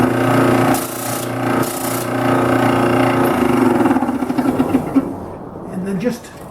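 Disc sander truing the end of a brazed bandsaw blade held tooth-up in a jig, a continuous motor hum with light rasping grind as the metal touches the disc, and a person talking over it.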